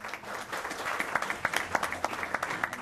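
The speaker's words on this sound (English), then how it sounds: "Give him a clap, please." At a parish police jury meeting, a small audience applauds a coach with moderately loud clapping, individual hand claps standing out in a quick uneven rhythm.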